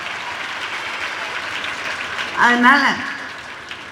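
An audience at a women's college golden jubilee anniversary speech applauds in a steady, broad wash of clapping, while a voice speaks briefly over it in the middle.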